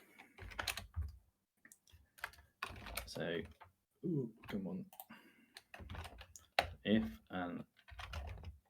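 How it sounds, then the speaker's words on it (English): Rapid keystrokes on a computer keyboard click in short bursts between and beneath a person's speech while a math theorem is being typed out. "I'll type it. Let me use typing."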